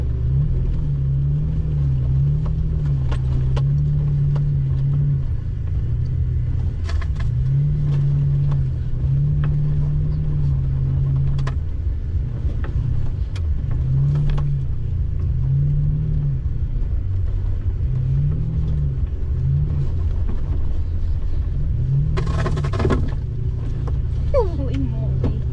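A 2015 second-generation Toyota Tacoma in two-wheel drive, on tires aired down to 20 psi, drives through sand. Its engine drones in a loud, steady rumble that rises and falls with the throttle, and a voice speaks near the end.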